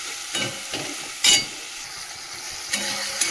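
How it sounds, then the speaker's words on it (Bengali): Spice paste with green chillies frying and being stirred for a fish curry, giving a steady close sizzle broken by several scraping stirs, one louder scrape in the middle. "মশলাটা ভালো করে কষানো হোক, তারপরে মাছটা দেবো।"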